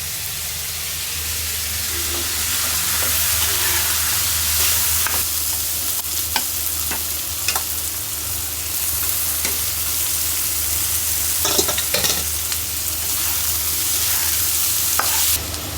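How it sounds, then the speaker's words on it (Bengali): Taro leaves cooking in a wok, a continuous close frying sizzle and hiss with scattered scraping and stirring clicks. "আর কচু শাক এই যে ফুটাই নিচ্ছি কড়াইতে"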